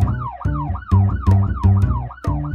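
A loud, close police siren wails in rapid repeating up-and-down sweeps, about six cycles, with no voices.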